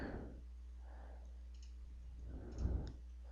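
A computer mouse clicks a few times, soft and close, while someone works in CAD software. A low hum runs underneath the sparse, separate clicks.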